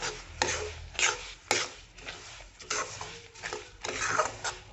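Sesame seeds stirred and scraped around a hot pan for Assamese til ladoo, a steady rough rasping with repeated scraping strokes, close and moderately loud, with no talking.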